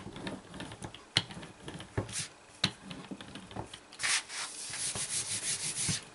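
Tape being rubbed down hard onto a mini album cover: firm, scratchy rubbing strokes, close and irregular, growing denser and louder toward the end, with no talking.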